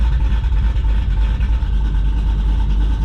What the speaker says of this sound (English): in the car with the Redline exhaust, windows are open, sitting at idle in sport mode